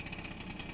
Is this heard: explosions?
no